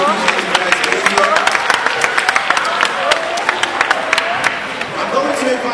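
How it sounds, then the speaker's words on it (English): A crowd applauding loudly at a career day event, dense overlapping claps with a few cheers, sustained the whole time. "let's give a round of applause to our special guests"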